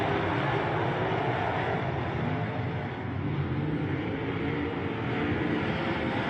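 Midget race cars roar past on a Tri-State speedway track as the field races down the back straightaway, a loud continuous engine drone that swells and fades slightly without breaks.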